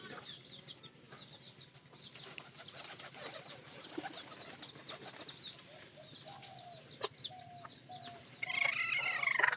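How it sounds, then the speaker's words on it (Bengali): Pigeons in a loft squabble over nest straw, with soft cooing, scuffling and intermittent wing flaps close by, growing busier and louder with a burst of flapping at the end. "কবুতরের মধ্যেও কিন্তু খড় নিয়ে কিন্তু একরকম যুদ্ধ চলে, যে কার খড় কে নিতে পারে।"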